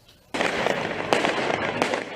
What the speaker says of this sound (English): Fireworks turned into weapons as protesters launched them at riot police and buildings across France.